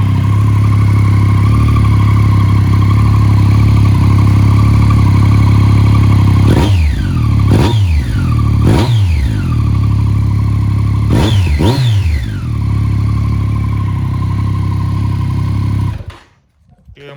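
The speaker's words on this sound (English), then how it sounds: "As you can hear, it's got that nice deep burble to it compared to what it used to be like before." A LAMS motorcycle fitted with an Arrow exhaust idles with a steady deep burble, then blips four quick revs that rise and fall before it settles back to idle and cuts off at the end.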